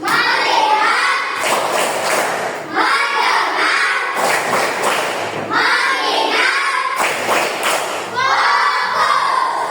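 Children in a classroom perform a focus clap routine, with bursts of rhythmic group clapping mixed with shouted chanting, repeating in several loud waves close by.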